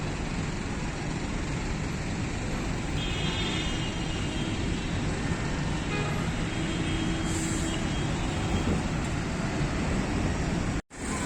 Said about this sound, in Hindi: मरी और कश्मीर के तरफ जाने वाली ट्रैफिक आपके सामने।